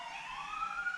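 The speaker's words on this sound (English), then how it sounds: "Sorry about the sirens." Emergency vehicle sirens wail faintly from outside, their pitch slowly rising, with no one speaking.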